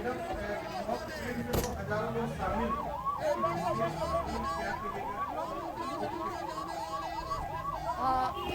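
A rapid, oscillating civil defence siren warbles over and over in a fast rhythm during a mock drill in Chas, Bokaro, fairly distant, mixed with background chatter and traffic.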